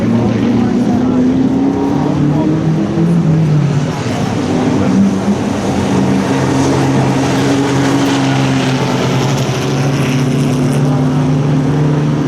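Vintage race cars including a Porsche and a Maserati 200 SI racing past, a loud continuous engine drone with shifting pitch, a commentator talking over it.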